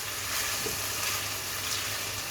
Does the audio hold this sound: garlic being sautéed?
yes